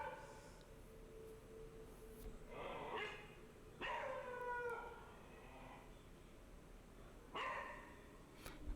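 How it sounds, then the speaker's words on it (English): A beagle barking and growling at night, a few spaced barks and whining yelps over quiet background, somewhat distant and faint. "Lewis would always wake up late at night, This barking is- and growling at something unseen in the kitchen"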